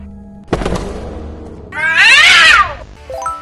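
CatNap, the Cat B monster from the game Poppy Playtime Chapter 3, lets out a deep thud and low growl, then a loud wavering yowl that rises and falls before trailing off, all alone and close.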